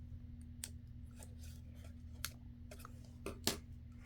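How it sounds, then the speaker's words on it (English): Scissors trim a tiny scrap of paper: a few faint, sharp snips close by over a low steady hum, louder near the end. "I'm just trying to trim off this little tiny bit that's sticking out there."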